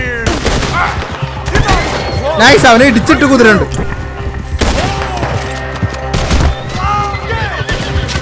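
Gunfire in the video game Red Dead Redemption 2, set in woods: several sharp, loud shots in separate bursts, ringing out over excited talking and shouting from players.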